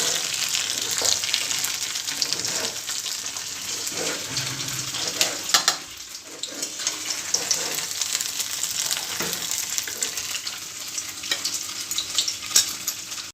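Paneer fries in a pan while fried rice is being cooked, giving a continuous bright sizzle with occasional clinks and stirring scrapes. The frying is close and steady and carries on without a break.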